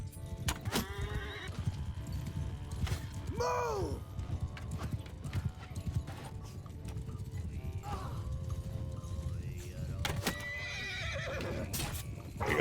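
Horses in a video game battle, with clopping hooves, several loud whinnies and neighs, and the clatter of combat under a steady rumbling din. Someone talks over parts of it.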